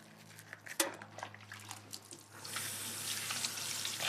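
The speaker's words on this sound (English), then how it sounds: "And then just rinse it as well." A kitchen tap runs as a baby bottle nipple is rinsed, a few soft clinks and splashes first, then a steady hiss of flowing water rising partway through, quiet and close.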